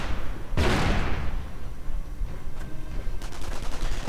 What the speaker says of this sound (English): Mortar opening up as well.